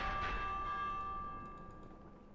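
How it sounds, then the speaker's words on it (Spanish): Warning bell ringing in the video game Minecraft Dungeons, a faint, sustained metallic tone that slowly dies away over a low background wash. "Toca la campana de advertencia."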